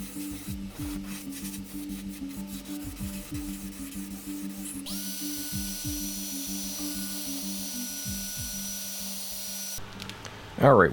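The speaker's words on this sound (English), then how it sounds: "gonna hit this with the hairdryer" A hairdryer blows over thick airbrushed paint on a glide bait fishing lure. A steady whooshing hum starts partway through and runs alone for several seconds, following earlier rubbing and handling noises, then cuts off at a louder clatter.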